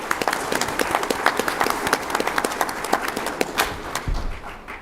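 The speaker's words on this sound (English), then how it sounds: "recognize them with a round of applause" Audience applause at a staff meeting, a dense burst of many hands clapping that swells and then thins out toward the end, with sharp individual claps standing out near the close.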